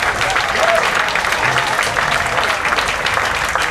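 Dense applause from a banquet audience in Paris, steady clapping filling the whole stretch at close range.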